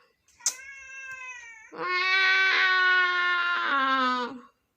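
A cat meows twice: a brief, higher cry followed by a loud, long, drawn-out wail, close by with nothing else around.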